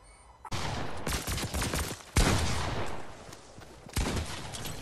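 Rapid gunfire rings out in Fortnite, several bursts of shots in quick succession, loud and close, with brief pauses between volleys.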